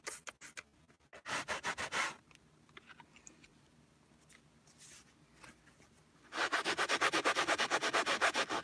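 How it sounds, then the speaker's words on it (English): Rhythmic back-and-forth scrubbing of a car interior surface with dollar store cleaner, close brisk rubbing strokes in two bursts with a quieter pause of softer rubbing between, no voices. "We're going to do a quick little scrub over it."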